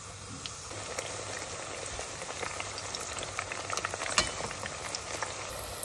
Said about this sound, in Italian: friggiamo.